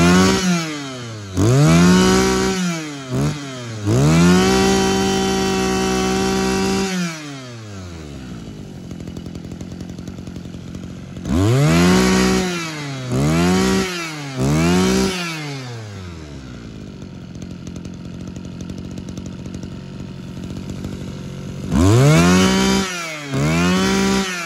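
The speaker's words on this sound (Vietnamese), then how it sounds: "Dòng TL26 này nổ cũng rất là bốc" Japanese TL26 brush cutter engine revving loudly in repeated bursts, climbing to a high whine and dropping back to idle several times, alone with no talk.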